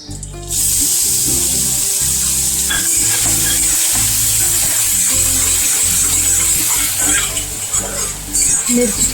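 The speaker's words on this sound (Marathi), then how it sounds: "शेंगदाणे तेल टाकून त्याच्यामध्ये ही पेस्ट टाकते आहे आणि व्यवस्थित मिरचीची पेस्ट भाजून घ्यायची आहे" Green chili paste frying in peanut oil in a kadhai while being stirred, a loud continuous sizzle with scraping stir strokes throughout, close and dominant.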